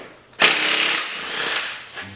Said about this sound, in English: you think the Ryobi's gonna do it?